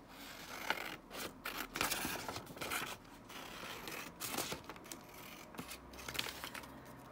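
Scissors cutting a picture out of paper, with quiet repeated snips and crisp paper rustle in a close, intimate setting, without talk.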